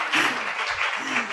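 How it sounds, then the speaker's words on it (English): Brief applause from a women's conference audience, a soft continuous wash of clapping with a voice briefly audible underneath. "Let's give her another round of applause."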